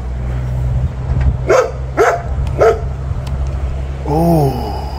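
A neighbour's dog barks three times in a row, then gives a whining, yelping cry, fairly close and outdoors with a steady low hum behind it.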